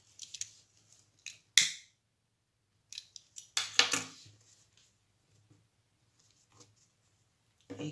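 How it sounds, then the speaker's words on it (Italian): Scissors snip through crochet yarn at the end of a handmade bag, giving a few short, crisp cuts with quiet pauses between them, close and alone. "Taglio il filo"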